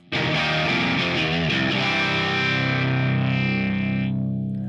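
An electric guitar played through a Line 6 POD Express amp modeler rings out as a loud, distorted chord with a chorus-like shimmer, sustaining for about four seconds before cutting off.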